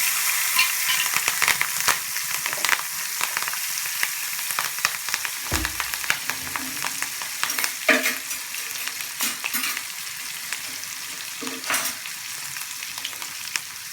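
Green chillies, turmeric and lump asafoetida sautéing in plenty of hot oil give a steady, close sizzle with bursts of crackle and occasional stirring scrapes, no voices over it.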